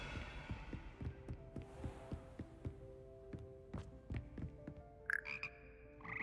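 A frog croaks in the video game Hogwarts Legacy, with repeated low, buzzy croaks in an uneven rhythm under faint hum, followed near the end by a brief higher chirp.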